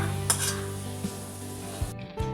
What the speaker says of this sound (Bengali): আর এদিকে ডালটা এখন ভাজা করতে দিয়ে দিলাম